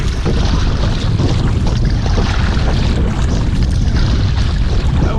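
Steady, loud wind buffeting the microphone while kayaking on Hunter Creek, a continuous low roar with water noise underneath and no talking.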